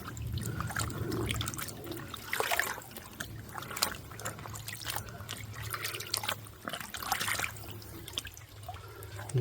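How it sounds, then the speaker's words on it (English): A bag being soaked and doused in water at a wet woodland wild camp, with steady trickling, dripping and sloshing close by throughout and a low hum underneath. "the first thing you do, okay, is you soak the bag."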